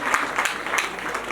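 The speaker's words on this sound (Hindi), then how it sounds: "एक बार जोरदार ताली पटेल परिवार की" A short burst of clapping from an audience at a Ramayana recitation gathering, brief and moderately loud with a few distinct claps.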